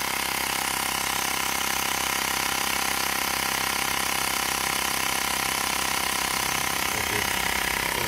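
A portable hand-held air compressor inflates a car tyre with a loud, steady mechanical drone and buzzing that runs unbroken and close, shifting slightly near the end.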